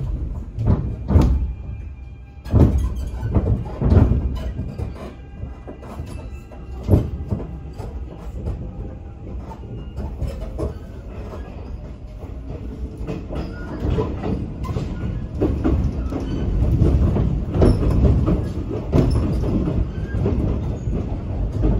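A Kintetsu 6620 series eight-car semi-express rumbles along the rails with repeated clickety-clack wheel beats and occasional squeals, loud and close from inside the carriage, with door and interior noises and no talk.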